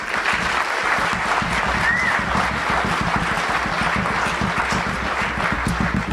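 An audience at a Kenyan diaspora meeting in Los Angeles applauds after a speech by Cabinet Secretary Dr. Fred Matiang'i, with steady, loud, dense clapping from a large crowd sustained throughout.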